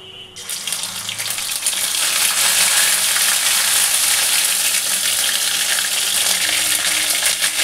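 Cumin seeds and ginger paste dropped into hot oil for a niramish lau ghanto, bursting into loud, dense, continuous sizzling close by with faint stirring and no talk.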